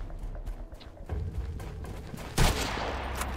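Gunfire in Sunkenland, a burst of quick shots at moderate distance followed by a louder, close blast near the end, over a low rumbling game backdrop.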